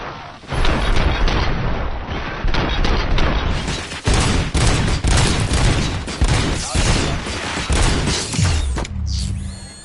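A loud, sustained volley of gunfire in the RoboCop PS5 video game, dense overlapping shots and booms filling the whole stretch with only brief dips.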